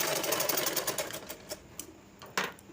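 A sewing machine runs a straight half-inch hem stitch along the front part of a blouse. A fast, steady mechanical whir slows and stops, followed by a couple of sharp clunks, close by with no speech.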